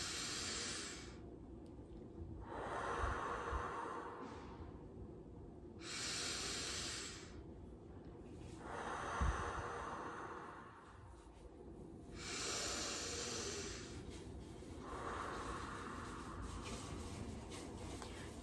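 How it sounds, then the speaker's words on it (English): Slow, deep breaths drawn in through the nose and let out through the mouth, several long airy hissing cycles separated by short quiet gaps, close and fairly soft, with no talking. "Nice deep breaths."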